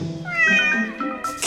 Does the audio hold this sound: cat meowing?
yes